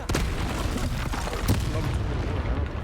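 A Confringo explosion spell goes off in the video game Hogwarts Legacy during a troll fight, a loud booming burst with a sharp blast near the middle over dense game noise.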